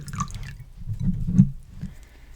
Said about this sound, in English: I'm going to dip half of this washcloth in water and kind of pat the water off